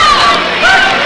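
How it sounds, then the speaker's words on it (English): Crowd at a high school basketball game between Murray and Calloway County, a loud close roar of cheering and whoops that swells and ebbs briefly. "the crowd really into it now"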